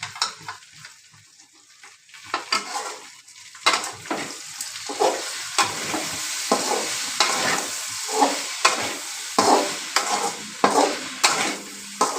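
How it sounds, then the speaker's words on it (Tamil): Okra cooking in a pan is stirred steadily, giving repeated scraping strokes over a soft continuous sizzle, close and fairly loud with no voices. "நடுவில் நடுவில் களை வச்சுனே இருக்கிறோம் இல்லைன்னா அடி பிடிக்கும்"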